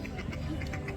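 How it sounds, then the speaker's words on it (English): Ducks quacking at Epcot, with several birds calling in short, separate bursts around the listener against a busy outdoor background murmur. "That quacking sound you're hearing is us being surrounded by ducks"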